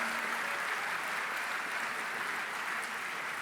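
Steady, sustained applause from a large audience at a MoDem party national council gathering, a dense even wash of clapping filling the hall with no break.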